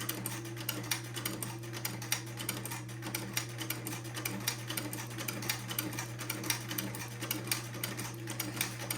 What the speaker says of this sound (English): let me sew this buttonhole, not real quickly, just kind of slowly